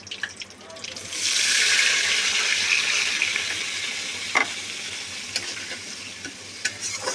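Green chili and a turmeric-water spice paste frying in hot oil for a bottle gourd and prawn curry, a steady broadband sizzle rising after the first second and holding, with a few brief clinks of stirring near the end.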